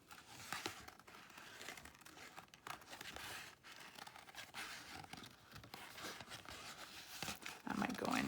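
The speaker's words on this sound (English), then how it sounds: "these big scissors are good when I'm just kind of doing a general outline of a" Large scissors cut paper in quiet, scattered crisp snips and crinkles, close and faint, with soft paper handling between cuts.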